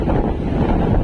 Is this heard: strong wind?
yes